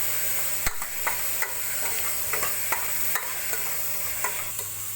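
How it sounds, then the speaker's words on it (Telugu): A spoon stirs chili powder into a tempering, scraping in a hot pan with a soft sizzle underneath, light clinks recurring every half second or so. "కారం మొత్తం ఇప్పుడు కలిపించుకోవాలి ఇలా కలిపించుకోవాలి"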